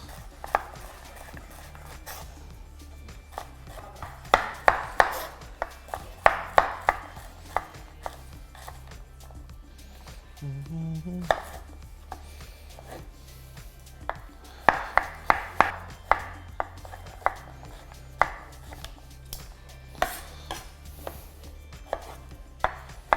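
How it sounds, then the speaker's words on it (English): Courgette is sliced into half moons with a knife on a cutting board, producing clusters of crisp, rapid knife taps against the board separated by pauses, close and moderately loud, with no talking. "Just going to cut this one into half moons"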